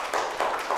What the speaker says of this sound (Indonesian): Silakan kita beri tepuk tangan untuk kelompok 2.